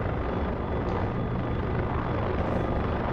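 An AH-6J Little Bird helicopter engine runs in the DCS flight simulator, a loud, steady turbine whine and rotor rumble, close and continuous with no voices.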